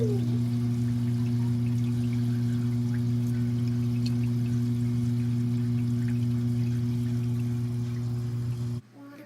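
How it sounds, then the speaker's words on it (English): Tank water pouring while an aquarium pre-filter is cleaned, a soft continuous trickle and splash over a strong steady pump hum, cutting off abruptly at the end. "you'll see me cleaning the pre-filter with the tank water"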